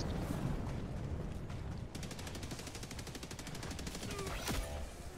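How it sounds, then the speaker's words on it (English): Rapid rhythmic bursts of gunfire and blasts during an airstrike in the video game Helldivers 2, a fast repeating barrage taking over after about two seconds, with a brief voice nearby. "Watch the airstrike."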